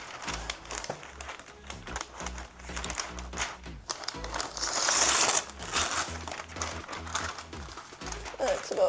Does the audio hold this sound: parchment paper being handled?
yes